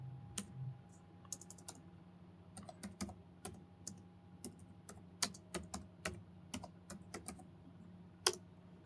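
A command being typed on a computer keyboard at a Windows command prompt, with crisp, separate keystrokes at an uneven pace, close and clear over a quiet background hum.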